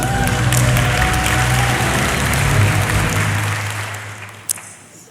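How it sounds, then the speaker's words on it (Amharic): Steady applause from a large church congregation during a Bible study session, dense and loud, thinning out toward the end. "አጨብጭቡለት።"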